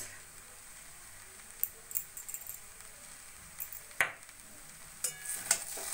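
Hakka noodles with vegetables being stirred in a pan make soft scraping and light sizzling, with sparse spatula clicks and taps scattered over a quiet background hiss.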